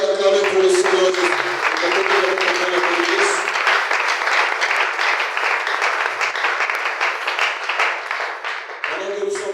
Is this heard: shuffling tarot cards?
no